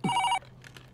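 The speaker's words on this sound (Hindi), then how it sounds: "ये लो घंटी बजी।" A telephone bell rings once in a short, bright burst, then cuts off, leaving faint room noise.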